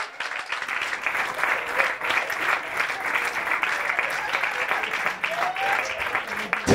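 A studio audience at a comedy show claps for a comedy duo, steady, dense applause that carries through the whole stretch, with a voice briefly audible over it.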